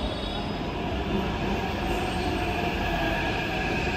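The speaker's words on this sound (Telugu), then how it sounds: "మియాపూర్ మెట్రో స్టేషన్కి అయితే వచ్చినాం." A metro train runs at Miyapur metro station, a steady loud rumble with a faint high wheel squeal and an even rolling drone over several seconds.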